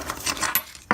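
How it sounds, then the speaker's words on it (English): A plastic turret camera enclosure snaps off after a push with scissors, giving a few light clicks and then a sharp pop near the end. "you just want to give it a little push in there, and it will just pop straight off"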